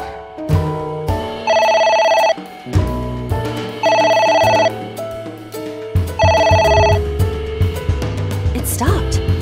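Telephone ringing in the video game AI Somnium Files, a loud electronic ring in repeated bursts over a synthesized music bed, with gaps between rings.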